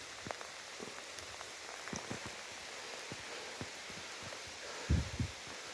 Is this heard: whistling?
no